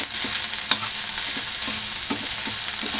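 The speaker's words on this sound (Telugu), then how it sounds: "సో ఇది కూడా బాగా మిక్స్ చేసుకోవాలి." Egg fried rice seasoned with salt, chili and garam masala is stirred in a hot pan, giving a steady loud sizzle with repeated scraping clinks of the spatula and no talking.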